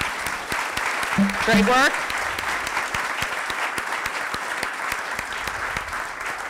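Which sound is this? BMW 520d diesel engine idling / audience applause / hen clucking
audience applause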